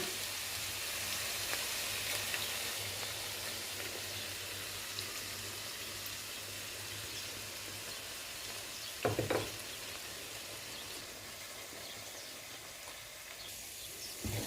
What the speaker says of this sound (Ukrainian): файненько перемішую і так їх уже жарю все разом.